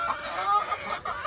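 Chickens cluck and murmur inside a crowded eggmobile coop housing about a hundred pastured laying hens, a steady, fairly close flock chatter with a few sharper calls and no talking.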